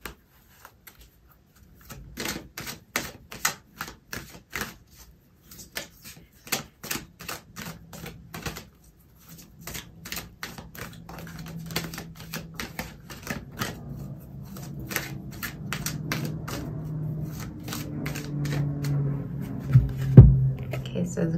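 Tarot cards being shuffled and pulled, a long series of quick, crisp card snaps and riffles in close succession, with a person talking over the later part.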